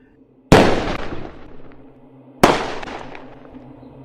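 Two big firework rockets set off in a backyard on the Fourth of July, each a sharp loud bang followed by a long crackling, fading tail, the second coming about two seconds after the first.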